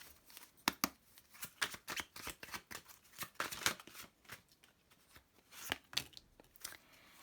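Tarot cards shuffled and drawn from a deck: a quiet, close run of crisp riffling flicks and soft slaps in irregular bursts, with no talk.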